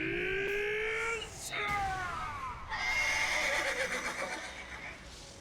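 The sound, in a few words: horse neighing in anime Vinland Saga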